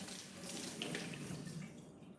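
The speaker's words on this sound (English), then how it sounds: "we've rinsed off our blueberries" Tap water runs steadily into a kitchen sink as blueberries are rinsed for pancakes, a soft continuous splashing rush with no talk over it.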